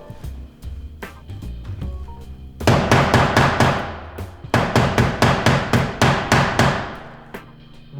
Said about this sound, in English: You're slipping in the edge of the chisel.